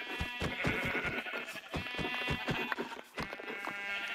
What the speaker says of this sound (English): there's a black sheep